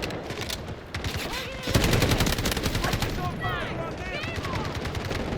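Rapid gunfire from the shooter game Delta Force, dense repeated shots building from a quick burst into sustained, loud automatic fire that runs throughout, with faint chirping game effects layered on top.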